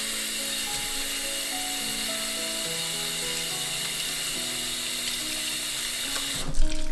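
Tap water runs steadily and loudly into a sink while dyed Pima cotton is rinsed, a continuous close rush with a brief splash and clatter near the end.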